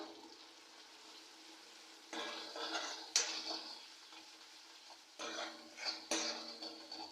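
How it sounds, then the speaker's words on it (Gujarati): A salt and garlic chili mixture being stirred in a pan gives soft sizzling with two bursts of scraping and clinking from the utensil, close and quiet, no speech. "બધું મિક્સ કરી દઉં"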